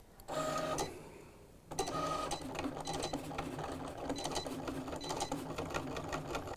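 Cricut cutting machine cutting a laptop decal, a brief motor whir followed by a pause, then a steady buzzing mechanical drone with rapid ticking carriage movements.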